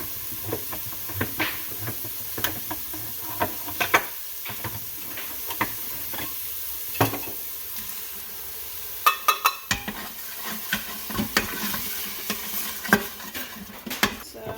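Onions and canned green chilies fry in a pan, a soft steady sizzle broken by frequent clinks and scrapes of a utensil stirring against the pan.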